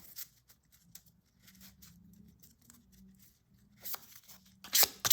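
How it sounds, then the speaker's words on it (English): Tarot cards are riffled and shuffled close up, soft papery flutters building to a louder crisp burst of snapping cards near the end. "I'm sitting so close to the camera with my shuffling."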